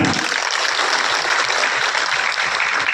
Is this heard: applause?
yes